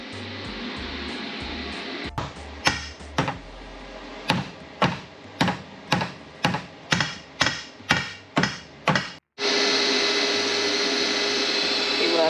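A stiffening rail is welded onto a car's pinch weld while fitting a Stifflers fit kit: about a dozen short crackling bursts in an even rhythm, then a continuous loud roar.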